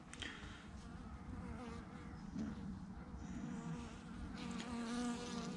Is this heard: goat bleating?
no